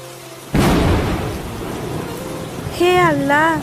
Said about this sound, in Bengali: যেভাবে বৃষ্টি হচ্ছে দেখে তো মনে হচ্ছে এইবার বন্যা না হওয়া পর্যন্ত বৃষ্টি থামবেই না